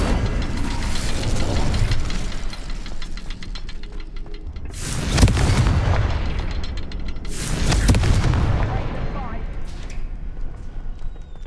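Incendio fire spell cast in Hogwarts Legacy, two loud whooshing bursts of flame about two seconds apart over a rumbling game background with mechanical clatter.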